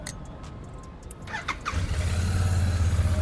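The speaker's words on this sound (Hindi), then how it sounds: "एक बार मैं आपको इसका एग्जॉस्ट नोट सुना देता हूँ, एग्जॉस्ट नोट किस प्रकार का आता है" A Royal Enfield Shotgun 650 motorcycle starts up and settles into a deep, loud, steady exhaust note at idle, close to the listener, after a short clatter.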